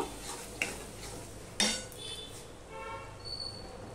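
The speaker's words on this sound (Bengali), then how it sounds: "দিয়ে মশলাটাকে আমি ভালো করে কষিয়ে নেব।" Spice masala is stirred and fried in a pan for a hilsa fish curry; a couple of sharp metallic clinks of the utensil against the pan stand out over a soft, steady background hiss.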